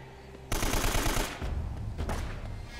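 Gunfire in Uncharted: Drake's Fortune breaks out as a loud burst of rapid shots, followed by further scattered bangs and clattering over the next two seconds.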